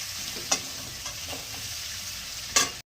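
Two onions fry in a pan for a rohu fish curry, a continuous close sizzle broken by a few sharp scraping stirs, with no voices.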